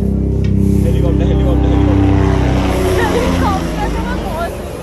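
A helicopter drones steadily close by on the Kedarnath trek, a low throbbing engine hum with voices talking over it.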